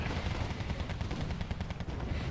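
Gunfire in the strategy video game Wargame AirLand Battle, a continuous crackle of rifle and machine gun bursts from infantry battles, steady and moderately loud with no talk over it.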